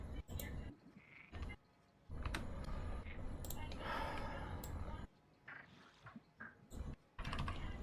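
Someone types fast on a computer keyboard in quick bursts of clicks broken by short pauses, with faint frog-like croaking sounds mixed in.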